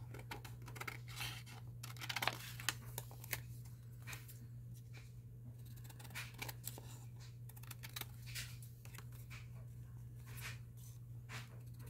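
Scissors trim paper around a page for a shabby chic journal, with steady snipping and rustling close by under a constant low hum, and no talking.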